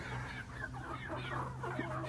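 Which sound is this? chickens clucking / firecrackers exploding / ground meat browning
chickens clucking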